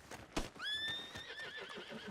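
A horse whinnies once in Red Dead Redemption 2, loud and close, its high shrill call wavering down over about a second and a half, after a brief thump.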